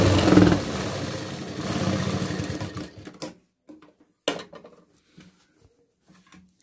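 A sewing machine runs in a fast whirring burst for about three seconds, stitching tucks on a blouse, then stops, followed by scattered quiet clicks and handling sounds.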